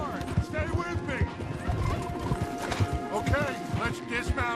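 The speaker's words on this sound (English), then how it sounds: "We won't get the horses down this path." Horses gallop hard with rapid clip-clop hooves and sharp neighs in Red Dead Redemption 2, with a continuous bed of music and ambience throughout.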